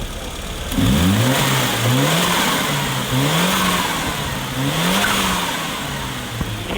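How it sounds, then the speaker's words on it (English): A turbocharged, intercooled 1987 Mitsubishi Lancer 1800 EX GSR engine revs up in several short bursts, each followed by a quick whooshing hiss of a blow-off valve, with an exhaust manifold leak audible, loud and close. "hear the little blow-off valve, but you can also hear the exhaust leak in the manifold as well"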